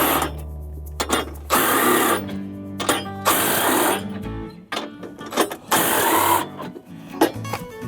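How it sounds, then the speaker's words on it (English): Four bolts being removed from the cutting disc of a SaMASZ PerfectCUT mower cutterbar: several loud, whirring, rattling bursts of a tool with short pauses and metallic handling in between. "we need to remove those 4 bolts here"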